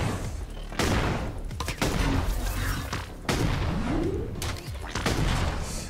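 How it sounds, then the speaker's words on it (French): Pump-action shotgun blasts from the video game Kill to Collect, several loud booming shots at irregular intervals of a second or so, each with a short rumbling tail over steady game noise. "avec le fusil à pompe, plus on est prêt, plus on fait de dégâts"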